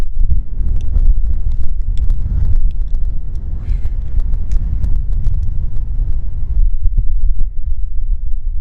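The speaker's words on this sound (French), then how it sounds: "je vous parle depuis l'intérieur de la voiture parce qu'il y a énormément de vent" Strong wind buffeting a car from inside, parked on a dirt road on Fuerteventura: a loud, continuous low rumble with gusty swells and a few faint rattles, no voices.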